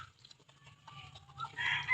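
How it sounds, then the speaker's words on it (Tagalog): Seventeen chicks peeping together, thin high chirps scattered close by over a low background hum, growing livelier toward the end. "Ayan ang 17 sisiw."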